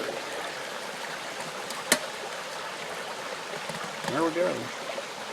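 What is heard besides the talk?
creek flowing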